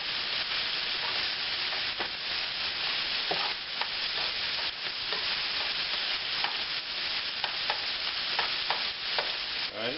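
Rib tips and ham stir-frying in a hot pan at a BBQ catering cookout, a continuous loud sizzle with repeated scraping stirs breaking through at irregular intervals.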